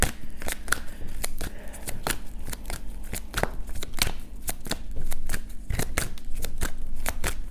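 Tarot cards shuffled by hand in a quiet room, with sharp riffling flicks repeating in an uneven, steady rhythm for several seconds, close and fairly loud, with no talking.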